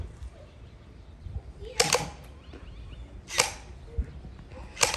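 Hydrogel gel blaster pistols fire in a backyard battle, with three sharp, distinct snapping shots spaced about a second and a half apart over a low background rumble.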